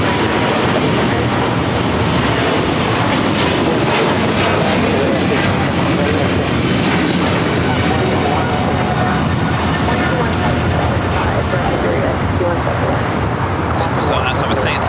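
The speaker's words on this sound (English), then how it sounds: "Oh, we got Austrian also taking off the special livery," An Austrian Airlines airliner in special livery takes off from runway 25 right at Los Angeles International, a loud, broad jet roar filling the whole stretch while a voice talks over it.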